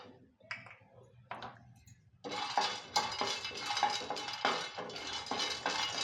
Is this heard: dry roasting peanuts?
yes